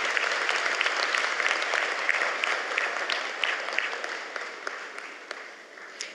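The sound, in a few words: applause from audience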